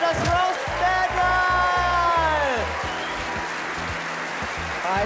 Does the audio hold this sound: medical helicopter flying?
no